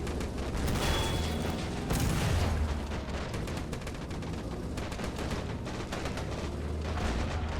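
A Flak 88 gun fires at British tanks, among them a Cromwell, in a World War II video game battle at Foy. The booms and dense crackling gunfire run loud and continuous throughout with no talk.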